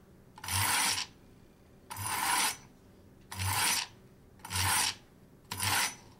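A knife blade pulled through the stage-one slot of a manual knife sharpener, giving five evenly spaced, loud raspy scraping strokes, each about half a second long with short pauses between, and no talking.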